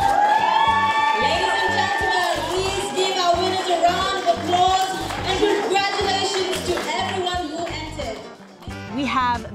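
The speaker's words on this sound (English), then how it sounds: "Ladies and gentlemen, please give our winners a round of applause and congratulations." At an awards event in the Solomon Islands, a crowd cheers and shouts for the winners, with loud overlapping children's voices and whoops. The noise fades slightly toward the end.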